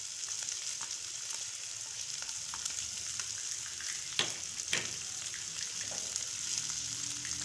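Capsicum and green chillies frying in a pan, with a soft, continuous sizzle and a few faint scrapes or taps from stirring.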